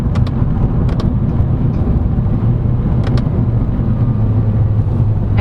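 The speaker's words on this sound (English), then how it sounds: "You can feel the engine kicking down, but no transmission kick whatsoever." A 2022 Honda CR-V SX diesel AWD kicks down a gear while driving, heard from inside the cabin as a steady, loud low engine rumble with a few faint clicks near the start.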